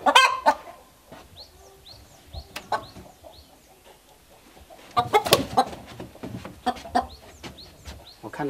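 A hen clucking while trying to lay an egg, repeated short clucks near and clear in a quiet setting, with a busier cluster of calls in the second half.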